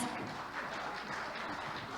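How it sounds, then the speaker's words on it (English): Applause from an audience at a governance, risk and compliance summit session, a soft, steady wash of clapping heard from a distance at low level. "Please give the best applause for all of us."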